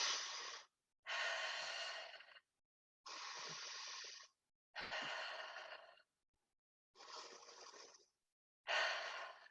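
Slow, deep breaths during a seated chair yoga exercise, six long airy inhales and exhales separated by brief silences, close to the microphone and with no talking.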